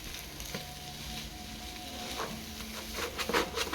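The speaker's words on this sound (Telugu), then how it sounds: "మధ్యలో బెల్లాన్ని నలగొట్టుకుంటూ తిప్పుతూ ఉండాలి." A jaggery mixture being stirred and broken up in a pan, with a faint sizzle and several soft scraping strokes that grow slightly louder toward the end.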